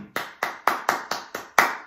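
A few hands clapping in a slow, deliberate rhythm, seven sharp claps spaced roughly a quarter second apart, close and distinct with no other sound between them.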